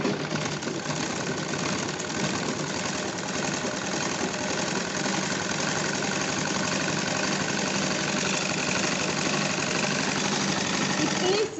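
A sewing machine runs continuously while stitching a salwar, giving a steady close mechanical whirr with rapid needle ticking throughout, under a voice speaking.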